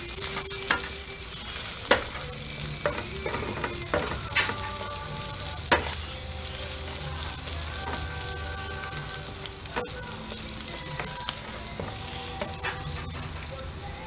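Onions fry in a pan for menudo, a loud unbroken sizzle up close with spatula scrapes and faint tonal clinks scattered throughout, and no one speaking.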